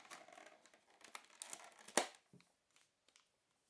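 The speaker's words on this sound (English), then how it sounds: "Now let's pop it open and remove the contents from the bubble plastic packaging." Bubble plastic packaging around a Western Digital Elements portable hard drive crinkles and rustles as it is opened and pulled away, with one sharper crackle midway before the handling fades to faint scattered rustles.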